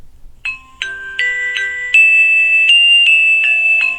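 A cheap smartwatch plays its tone 2 notification, a bright electronic chime of several rising and falling notes that each start with a sharp ding and ring on, stacking into a sustained, close melody with no voices.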